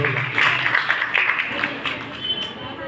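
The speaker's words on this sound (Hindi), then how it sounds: "और जोरदार तालियां मांगे" Devotees at a Holi festival program in the Gopal temple applaud, a sustained crowd of clapping heard close and moderately loud while a voice speaks over it through a loudspeaker.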